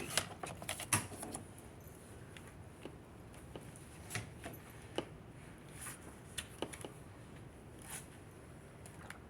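Scrapbook paper being cut on a paper trimmer, a series of soft ticking clicks and light sliding scrapes at close range, irregular and fairly quiet.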